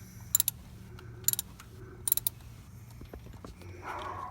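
A 10mm socket ratchet clicks in short bursts of quick ticks, three clusters spaced about a second apart, working on a 2000 Silverado engine, fairly quiet and close with no talking.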